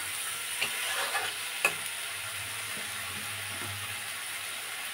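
Potatoes fry in a pan with chana masala while being stirred, giving a steady close sizzle with a few sharp scrapes of the spoon against the pan and no talking.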